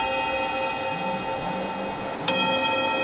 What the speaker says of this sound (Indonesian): bel sudah berbunyi untuk hari ini